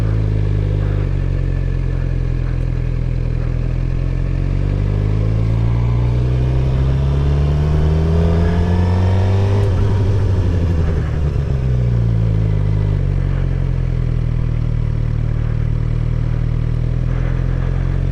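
A motorcycle rides figure eights in second gear on a beginner's fourth day, its engine droning loud and close with pitch sweeping up and down as it slows into turns and pulls away again.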